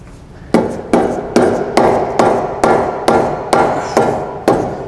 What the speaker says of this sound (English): we're just going to give her a little tap with a hammer